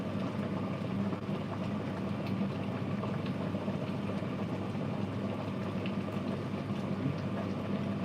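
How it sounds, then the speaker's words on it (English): Adobo boiling in a pan, a steady dense bubbling simmer that holds even and close throughout, with no talking. "First I'm going to show you the boiling of our adobo."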